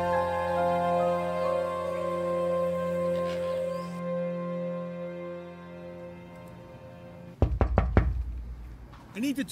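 Sharp knocks on a door, a quick cluster of four or so loud raps near the end, following a long stretch of sustained droning tones from a movie soundtrack.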